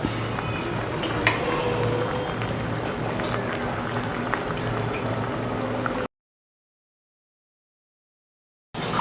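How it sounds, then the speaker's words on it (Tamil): A pot of fish curry bubbling and simmering steadily at close range, a busy liquid churn with faint clinks, cutting to silence and then briefly returning. "இப்போ வந்து நல்லா கொதிக்கிட்டோம்"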